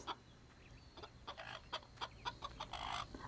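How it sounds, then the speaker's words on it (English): Chickens cluck in the video game Fable, a steady run of short, quiet clucks and squawks that grows a bit busier toward the end, with no talk. "Chickens!"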